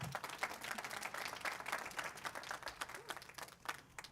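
An audience at a Hemet-San Jacinto fast pitch competition applauds after a pitch presentation: a dense, even patter of many hands at moderate volume that thins and fades toward the end.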